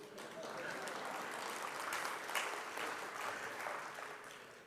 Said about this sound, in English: you want to clap? Please go ahead.